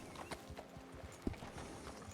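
Horse hooves clip-clop at a steady walking pace in Red Dead Redemption 2, soft and somewhat distant, with one sharper knock partway through.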